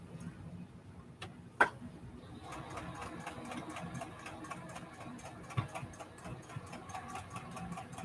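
A sewing machine stitches star quilt blocks with a steady, fast mechanical ticking that begins after a couple of seconds and runs on at moderate level, with a sharp click early on.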